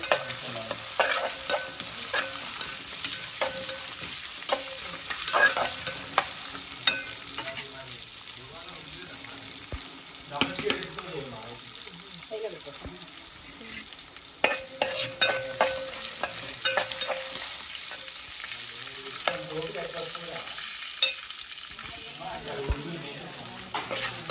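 Asafoetida gets stirred into food sizzling and frying in a pan, with steady frying hiss and repeated scraping stirs throughout, and a voice talking now and then over the cooking.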